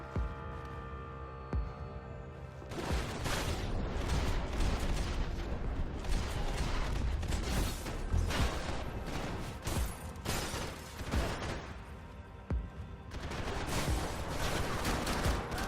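Gunfire in Max Payne 3, dense and sustained after a quiet opening, with rapid bursts and shots hammering loudly over a steady game hum for most of the stretch.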